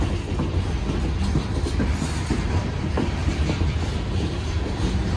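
A Union Pacific freight train rolling past slowly in Newport, Arkansas, with steady wheel clatter and rumble of rail cars, close and continuous, no voices.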